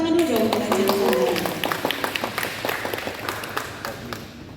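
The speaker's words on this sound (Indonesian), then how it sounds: "Tepuk tangan dulu dong Kaca Nusantara." Audience applause for Kaca Nusantara at a book launch, a burst of many hands clapping that fades gradually into scattered claps, with a voice heard at the start.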